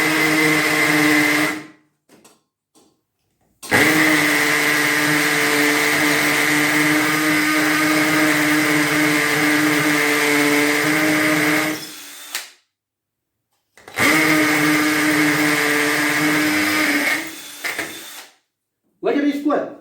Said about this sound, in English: We're going to drill this one.